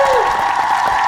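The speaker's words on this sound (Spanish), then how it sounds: "Un aplauso." A brief burst of audience applause at a talk, steady and fairly loud, over a faint tonal hum.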